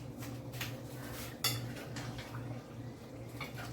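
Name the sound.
stirring vegetables into curry turkey and chicken pot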